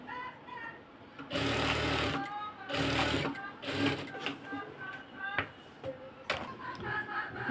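A sewing machine runs in several loud bursts of rapid stitching, with pauses between runs while a voice talks over the quieter gaps as the fabric is flipped and a reinforcing stitch is sewn.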